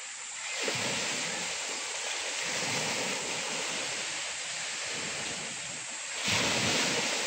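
Surf washing onto the shore in a steady roar, swelling and easing, with wind rushing across the microphone throughout.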